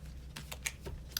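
Tarot cards shuffled by hand, a few soft broadband riffles and flicks spaced irregularly, close and fairly quiet, with no talk.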